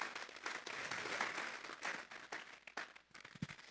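A church congregation applauds during a Spanish-language sermon, faint and distant clapping that swells, then thins out into a few scattered claps.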